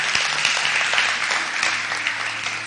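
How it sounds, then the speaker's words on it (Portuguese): A church congregation applauds during a sermon, dense steady clapping filling the room at moderate loudness with no break for the whole stretch. "Pode aplaudir o Senhor"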